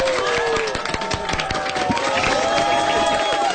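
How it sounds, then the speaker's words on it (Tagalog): Clapping from several people in a radio booth, mixed with crowd noise and overlapping voices and music, loud and continuous throughout. "papalakpak naman sa mga nandito sa booth ngayon."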